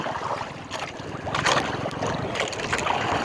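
Strong wind gusts buffet the microphone on a small fishing boat out on choppy water in bad weather, a continuous rushing roar with louder surges and no talk.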